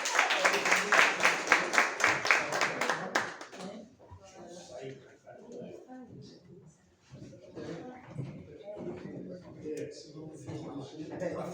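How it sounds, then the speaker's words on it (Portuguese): Audience at a formal ceremony for a state poets' day in Espírito Santo breaks into loud, dense clapping for about three seconds, then fades into scattered claps under murmuring talk. "A salva de palmas. Salva de palmas, por favor."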